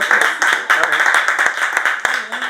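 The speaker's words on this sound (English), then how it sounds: "Give a round of applause for Hillary." Clapping rings out from the audience at an open mic at Wildflower Cafe, sharp irregular claps running throughout with voices mixed in.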